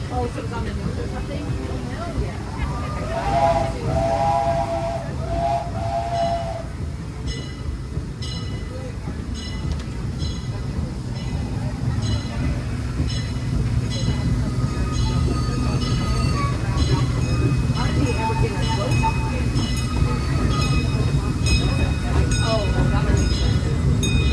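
Disneyland Railroad steam train rolling along its track at the Anaheim park, a steady rumble and clatter throughout, with brief whistle-like tones early on and a narrator talking over the ride.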